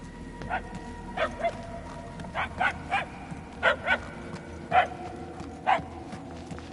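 Repeated barks from a dog in the Guardians of the Galaxy video game, about ten clear yaps in irregular pairs and singles over a steady low game ambience, moderately loud and somewhat distant.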